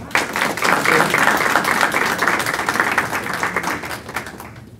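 An audience applauds a graduate at a youth graduation ceremony, a loud burst of dense clapping that fades gradually toward the end.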